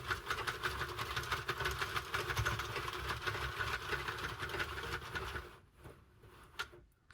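A Sentro knitting machine is cranked around by hand, giving a continuous close mechanical whirring and clicking for several seconds, then dropping away to a few faint clicks and near silence.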